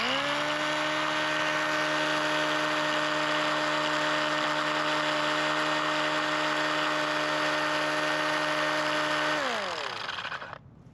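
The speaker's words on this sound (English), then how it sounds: "go ahead and fire that up so you can hear what the blower sounds like by itself" Mini Thunderbolt siren roots blower running alone at top speed, a steady loud high-pitched whine held for several seconds before the pitch drops and it spins down.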